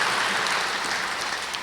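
An audience at a spiritual yoga talk claps together in a dense, steady burst of applause that fills the room at even loudness throughout, with no voices over it.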